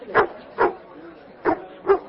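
A theatrical collie, descendant of the Hollywood dog Pal, barks at an autograph show: four short, close, fairly loud woofs in two evenly spaced pairs.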